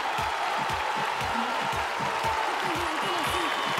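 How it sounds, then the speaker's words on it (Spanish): A large festival audience at Viña del Mar applauds, a steady dense wash of clapping holding at even volume throughout, with a voice speaking over it. "Con este aplauso gigante"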